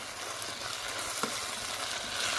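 A chili paste with garlic purée sizzles in a pan with a steady, even hiss and only faint stirring scrapes beneath it.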